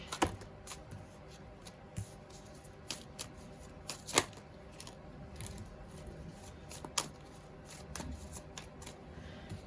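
Tarot cards being shuffled by hand, a run of soft papery riffles and sharp flicks at an irregular pace, close and fairly quiet with no talking.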